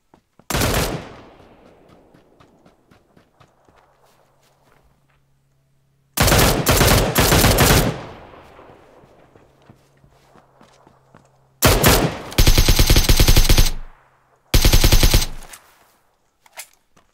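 Bursts of automatic gunfire in the shooter game PUBG: one short volley, then longer rapid strings and a final burst, separated by quiet gaps with faint footsteps and distant shots.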